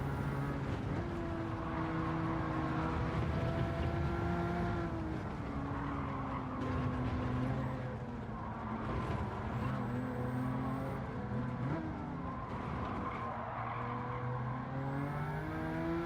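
A race car engine drones steadily during a Gran Turismo 7 time trial, its pitch rising and falling through gear changes and throttle shifts. Faint tyre squeal runs under the continuous, moderately loud engine, with no one speaking.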